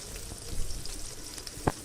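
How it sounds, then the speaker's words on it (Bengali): Onions, chillies and bay leaf frying in a little oil in a pan with salt added, a soft steady sizzle running throughout with a sharper crackle near the end. "তেজপাতা, পেঁয়াজ, মরিচ দিয়ে ভালোভাবে কষায় নিচ্ছিলাম"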